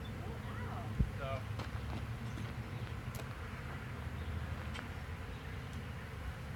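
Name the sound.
honeybee swarm buzzing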